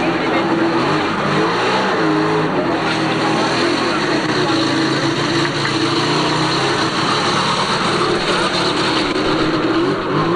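Lada rally car engine straining and revving hard at a rally in Congo, a loud continuous drone that stays steady throughout, with voices talking over it.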